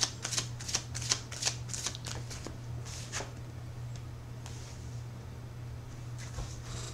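Tarot cards being shuffled by hand: a run of quick riffling flicks at the start, then softer slides and taps over a constant low electrical hum, with no talking.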